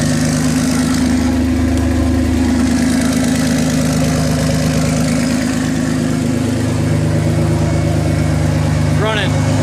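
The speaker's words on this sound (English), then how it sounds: "Running. It's really loud." Dodge Dakota truck running on a new exhaust setup, idling loud and rumbling with a steady deep drone throughout, heard up close with no break.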